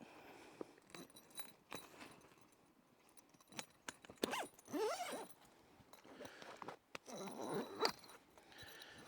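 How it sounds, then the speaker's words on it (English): A zipper is pulled shut on a Wildtrak Trakker swag bedroll, giving two quick close-up zipping strokes amid soft rustling and faint clinks of fabric handling. "zip that one all the way up"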